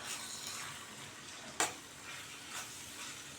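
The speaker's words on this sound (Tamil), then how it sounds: "நல்லா அந்த மசாலாவை அந்த எண்ணெயிலேயே வெங்காயம் தக்காளியோட நல்லா கொஞ்சம் வதக்கி எடுத்துக்கலாம்" Masala with onion and tomato sautéing in oil, a soft steady sizzle with a sharp scrape of stirring partway through and a fainter stir later.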